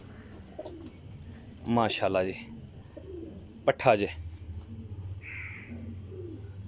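Soft, low cooing from a group of Pipla champion pigeons comes and goes beneath someone talking nearby, fainter and steadier once his speech pauses.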